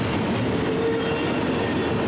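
Intermodal freight train hauled by GE locomotives including an ES44C4 and a C44-9W, rumbling past close by as a steady, loud roar of wheels and railcars with faint squeal, no talking.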